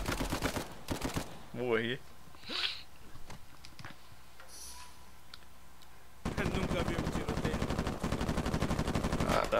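Gunfire in Uncharted 4 multiplayer: sharp bursts of shots at the start, then a sustained rapid rattle of automatic fire filling the second half, with a voice briefly speaking over it.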